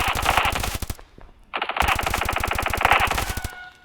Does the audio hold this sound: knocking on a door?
no